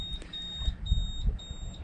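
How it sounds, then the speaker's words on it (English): A catamaran's low depth alarm beeps repeatedly in an even rhythm of short, high electronic tones, fairly faint over low background rumble near North Keppel Island. "That's the low depth alarm."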